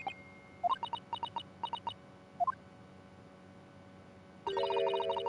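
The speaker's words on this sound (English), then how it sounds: "somebody's ringing a bell in the murder room" A bell rings out in Ace Attorney Chronicles, a series of short clear dings in quick clusters, then a fuller sustained ringing chime that swells in near the end.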